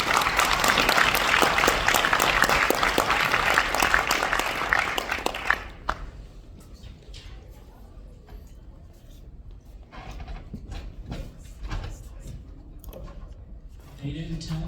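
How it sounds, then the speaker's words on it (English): An audience at an engineering institute event claps loudly and densely for about six seconds, then the applause cuts off, leaving scattered clicks and faint room noise, with murmured voices at the end. "Please give a round of applause to Mr."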